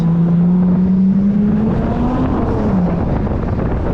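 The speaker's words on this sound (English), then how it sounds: "Got some long tube intake, so let me know if you guys could hear it." An Infiniti Q50 fitted with a long tube intake drones loudly from inside the car, its engine note rising steadily and then dropping off.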